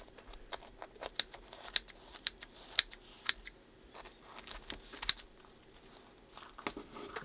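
A knife or cutter works through a sourdough pizza with a puffy crust, giving a run of scattered crisp crunches and snips, some sharper than others, close and fairly quiet, with no talking.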